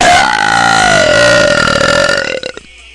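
A woman lets out a single long, loud, deep belch lasting close to three seconds, rumbling and sustained before it breaks off abruptly at the end.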